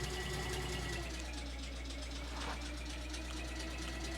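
A steam truck engine in the video game Eco chugs low and steady, idling throughout, with a constant deep rumble and faint mechanical knocking.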